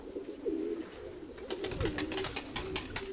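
A pigeon hen with a breeder's leg ring coos close by in soft, repeated low phrases, with light rustling and a few brief scratchy sounds overhead.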